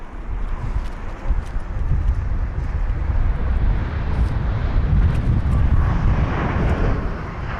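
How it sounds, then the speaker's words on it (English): A British Airways Boeing 787-10 Dreamliner at London Heathrow produces a loud, continuous roar that swells slightly toward the end, with a low rumble and some wind buffeting and no speech. "this here is flight number BA104 for the British Airways 787-10 Dreamliner"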